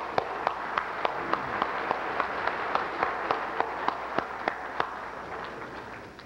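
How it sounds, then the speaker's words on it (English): Applause for speakers at a cold fusion workshop: a modest audience claps in a hall, with a few sharp, evenly spaced louder claps standing out over softer clapping that fades near the end. "Let's give a round of applause for these speakers"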